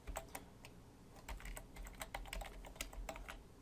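A password is typed on a computer keyboard in a quiet room, as a steady run of close, crisp key clicks with a few louder taps, and no voice over it.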